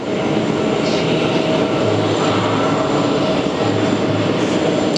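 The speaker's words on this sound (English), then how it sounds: "it's got the whale sound when it goes from idle to" A jet airliner nicknamed the baby whale, fitted with mismatched engines and arriving from O'Hare at JFK, gives a loud, continuous engine roar with a low droning hum and no voices.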